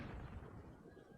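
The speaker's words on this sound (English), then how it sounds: "The cannon will open fire on that unit." Cannon fire in the Cossacks 2 strategy game, a dense, low rumbling boom that sustains steadily through the short stretch without clear separate shots.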